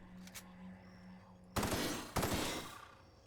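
DMR rifle fired in The Outer Worlds: two sharp, loud single shots about half a second apart, each ringing out briefly over a quiet game backdrop.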